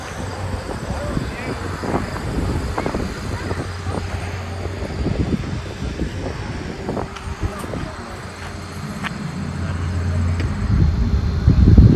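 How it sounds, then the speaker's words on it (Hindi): Wind blows through a garden at a fresh milk farm in a Canadian village, a steady low rumbling buffet across the microphone that swells into a stronger gust at the end. "यहाँ पे गार्डन में भी बहुत प्यारी हवा चल रही"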